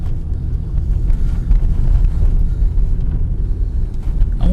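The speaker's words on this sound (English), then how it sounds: "Car's cold, I just started it up." A cold 2005 GM car with a 4T65-E automatic transmission idles and pulls away just after startup, a steady low rumble close by with some wind buffeting on the microphone and no talking.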